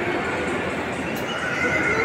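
A horse neighs inside a busy shopping mall during an anniversary celebration, the whinny loud against steady crowd noise while someone speaks.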